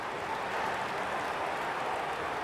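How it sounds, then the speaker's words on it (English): Broad, steady roar of a large stadium crowd at an Australian football match, Adelaide Crows versus St Kilda, a continuous wash of cheering and chatter at moderate level with no distinct voices standing out. "The crowd already making plenty of noise as the captains come together."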